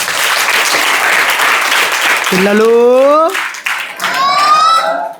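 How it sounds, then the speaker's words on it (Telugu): A group of children clap together in loud, sustained applause, with a speaker's voice rising over it partway through. "చప్పట్లు కొట్టండి"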